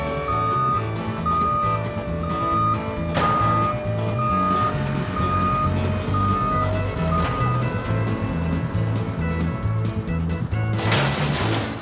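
A tow truck's reversing alarm beeps steadily and loudly in a regular repeating pattern, close by over a continuous engine rumble, with a brief burst of noise near the end.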